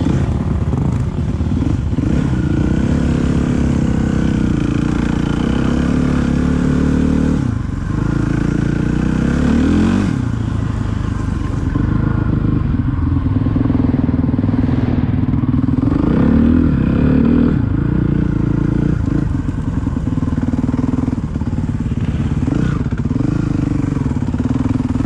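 A 2017 Suzuki RM-Z 450 dirt bike ridden through cold, snowy ground, its engine droning loudly and continuously with rising and falling revs and some clatter, close to the microphone.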